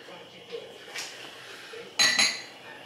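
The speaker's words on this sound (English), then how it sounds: "Scraping off the no good stuff." Kitchen utensils scrape and clink against dishes during cooking: a few soft scrapes early, then a louder double clatter near the end, close and fairly quiet.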